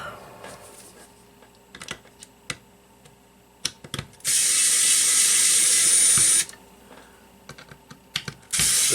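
Taking apart a Samlex SEC1223 switch mode power supply brings close clicks, taps and small metallic ratcheting sounds of a screwdriver, with a couple of loud sustained hissing bursts in between.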